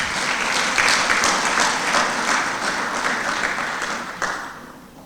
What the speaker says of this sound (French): Est-ce qu'on pourrait applaudir encore très fort?